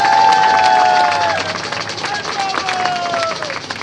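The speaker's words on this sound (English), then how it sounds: "Let's give them a warm round of applause." A crowd at a San Francisco Central Market event claps for an arts-in-storefronts program launch, with a whistling tone over the clapping and people chattering, loud at first and then easing.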